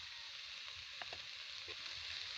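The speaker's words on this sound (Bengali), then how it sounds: "সব সবজিগুলো আমি ভেজে নেব হালকা করে" Mixed vegetables, including grated carrot, fry lightly in a pan with a soft, even hiss, quiet and close, broken only by a couple of faint clinks.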